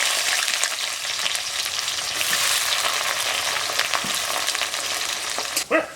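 Chopped onions frying in hot oil with black mustard seeds for chire poha, a steady close sizzle with faint stirring scrapes and a sharper burst near the end, no voices.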